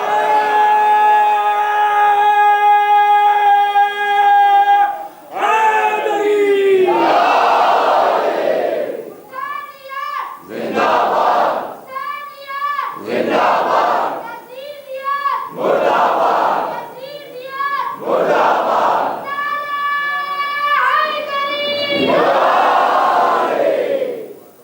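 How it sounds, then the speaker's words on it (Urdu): A large gathering at a Muharram majlis chants the Naara-e-Haidari slogan in loud, repeated call-and-response bursts, a lead voice alternating with the massed roar of the crowd. "لہذا ہم منواتے ہیں نعرے حیدری لگا کے"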